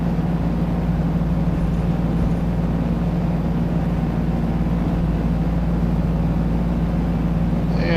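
Steady, loud droning airplane engine in Flight Sim World, holding a constant hum with a strong low tone as the throttle eases up for takeoff, no talk over it.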